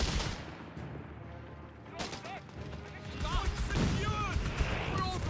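Gunfire in a Company of Heroes 3 battle: scattered shots and rattling bursts crackle against rumbling combat noise, medium distance and fairly quiet, with talk over the top.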